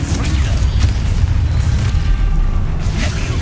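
Confringo blasting spell exploding in Hogwarts Legacy, a loud, dense rumbling boom sustained for a few seconds, close and heavy in the low end.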